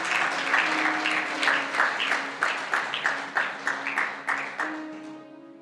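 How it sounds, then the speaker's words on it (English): A church congregation at a Christian conference claps in unison with a regular rhythmic beat, each clap crisp and distinct, over a sustained tone, gradually fading toward the end. "Can we appreciate God and clap for Him once more?"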